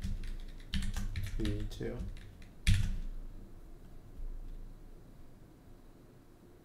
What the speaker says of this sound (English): Should probably just type something.